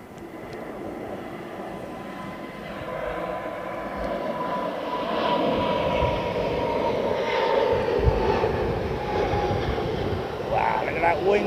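An ANA Boeing 777 departs from runway 27R at Heathrow Airport, its jet engines a broad, steady roar that swells gradually as it climbs, heard from a distance outdoors with scattered background noise.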